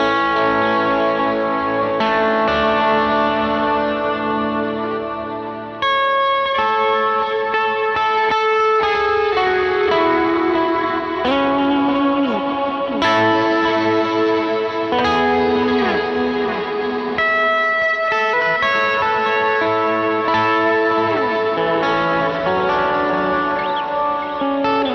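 Electric rhythm guitar noodles through a worship song, with sustained chords washed in reverb, echo, chorus and distortion effects. It plays loud and continuous, without any voice.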